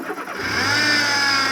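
A supercharged Mercedes-AMG engine fires up, a short crank giving way to a loud, steady whirring idle that holds close and clear, with no talking.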